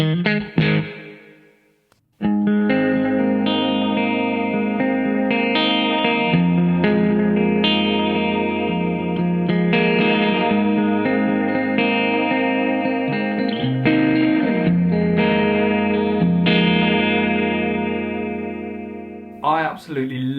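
Electric guitar through a Walrus Audio ARP-87 multi-function delay pedal with reverb added, sustained chords blooming into a thick wash of repeats and ambience that fills the space continuously before trailing off.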